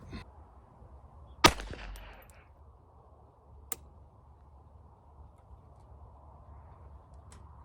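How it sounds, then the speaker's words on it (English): Two sharp, isolated reports from a Smith and Wesson 422 .22 LR pistol firing hollow-point rounds, spaced about two seconds apart over a quiet, low background hum. "the first three shots we're going to shoot are the Federal 36 grain hollow points"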